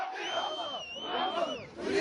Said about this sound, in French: Ce jour-là, un bain de foule au milieu de ses partisans